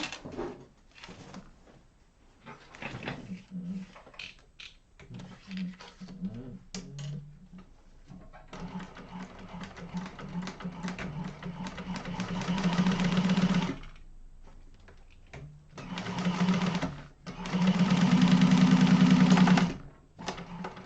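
A sewing machine runs in uneven bursts, a rapid mechanical chatter and whir that starts and stops, growing louder in longer runs, with an irregular, off-sounding rhythm.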